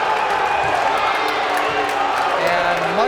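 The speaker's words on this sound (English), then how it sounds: "It's the Warwick fans letting their displeasure be known" Crowd of Warwick fans at a league final volleyball match in a gym, a sustained, loud mass of voices groaning and jeering in displeasure, with a commentator talking over it.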